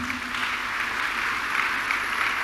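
A church congregation applauding, a dense, steady clapping from many hands filling the room for a couple of seconds, with no voices over it.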